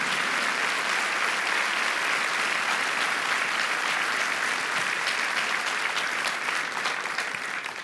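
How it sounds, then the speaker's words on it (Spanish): A church congregation applauds loudly and steadily for the whole stretch, a dense, even roar of clapping that eases off only slightly at the very end. "Y si alguien lo cree, denle un aplauso fuerte"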